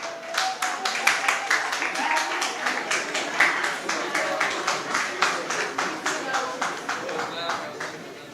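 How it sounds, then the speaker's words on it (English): Audience at a national secondary schools moot court competition clapping for the finalist teams, a crisp, fairly regular run of claps sustained for several seconds, moderately loud and close, with speech faintly underneath. "Let us clap for our finalist teams."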